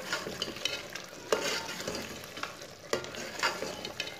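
A spoon stirs garam masala through a mutton curry simmering in a pot, giving soft repeated scraping strokes over a steady low sizzle, fairly quiet and close, with no voices.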